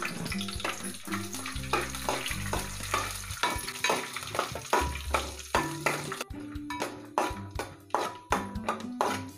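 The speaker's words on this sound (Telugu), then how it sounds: "నెయ్యి వేసుకున్నాం కదండి, జీడిపప్పు అలుకులు వేయించుకుందాం." Cashew pieces fry in ghee in a pan, a soft sizzle under repeated clinks and scrapes of a stirring spoon against metal, with no talk.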